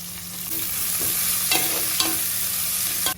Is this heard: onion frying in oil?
yes